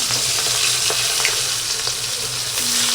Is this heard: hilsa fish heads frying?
yes